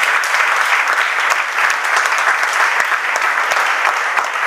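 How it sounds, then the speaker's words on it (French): A church congregation claps steadily together during a service, a dense, sustained wash of applause that stays loud and even throughout without any voices. "Applaudissez le Seigneur"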